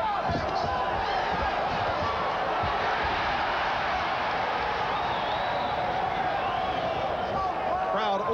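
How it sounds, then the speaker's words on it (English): A boxing arena crowd at the Vinny Pazienza vs Greg Haugen fight surges in a loud, sustained roar after a punch lands, the dense cheering steady and close throughout with voices shouting inside it. "Crowd overreacting because Pacienza just crazed Haugen."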